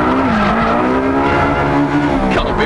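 Ferrari 360 Modena tyres squealing continuously under a loud, steady engine drone, a sustained tonal screech lasting the whole stretch with no voices.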